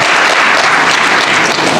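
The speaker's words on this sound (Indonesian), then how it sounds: "Boleh tepuk tangan, nggak apa-apa." Audience applause fills a hall at an Indonesian chamber of commerce (KADIN) extraordinary national assembly: dense, steady clapping from a large crowd, loud and continuous throughout, with no voices standing out.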